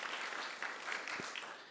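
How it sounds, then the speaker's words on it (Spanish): Faint, distant applause from an audience at a book fair opening and award ceremony, a soft, even patter of clapping lasting under two seconds with no talking. "Les pido un aplauso para Ana Lilia y a través de ella para todo el jurado"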